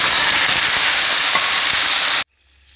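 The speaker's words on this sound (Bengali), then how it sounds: "এবার শাকগুলো তেলে দিয়ে দেব।" Boiled greens hit hot oil with reddened fried garlic in a pan, giving a loud, dense sizzle and crackle that stops abruptly after about two seconds, leaving near-silence.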